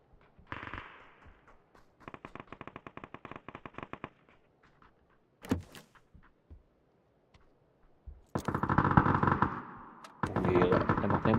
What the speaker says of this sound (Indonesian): Gila, tembak-tembakan cuk.